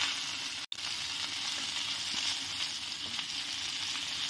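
Masala-coated fish fries in hot oil in a pan, a close, continuous crackling sizzle that holds steady with only a brief cut, no voices over it.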